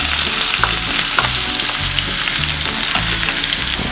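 Onions fry loudly in hot oil for a Bengali yogurt fish curry, giving a dense, continuous sizzle with occasional stirring knocks and scrapes.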